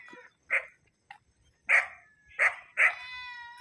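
Dogs bark in short, sharp bursts, about five yips and barks spaced unevenly with quiet gaps between, fairly close and with no talk.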